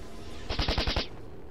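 A short, rapid burst of about six gunshots rings out in XCOM 2 Long War 2, loud and close, lasting roughly half a second over quiet background game ambience.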